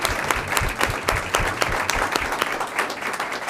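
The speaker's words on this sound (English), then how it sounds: "Yeah, let's give them a clap." Applause from the audience at a board of education meeting, fairly close and steady, with individual sharp claps standing out in an uneven rhythm through the whole stretch.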